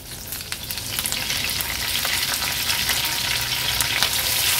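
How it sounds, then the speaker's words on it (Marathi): Curry leaves and ginger-garlic crush sautéing in hot oil, a dense, loud, steady sizzle that builds slightly over a few seconds, close up with faint stirring and no voices. "थोडंसं परतून घेऊया तेलावर"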